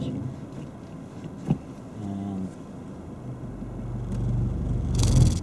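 A car's engine rumbles low and steady while reversing on a slope under clutch and foot-brake control, swelling slightly louder toward the end with a brief knock midway and no talk.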